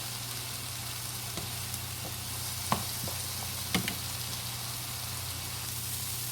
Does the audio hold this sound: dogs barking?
no